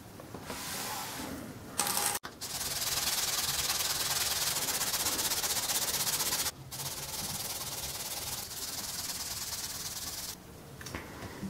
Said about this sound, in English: The next step is grinding and polishing.